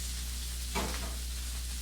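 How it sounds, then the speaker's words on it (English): Carnitas meat sizzles in a preheated pan, a steady hiss of frying that swells briefly in a burst of crackling before settling back. "We got sizzle!"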